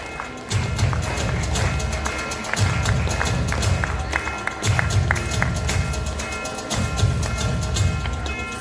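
An audience at a 2024 Women's Day celebration in Solapur claps loudly in rhythmic, unison bursts to honour the guests. The applause is close and strong, with some voices among it.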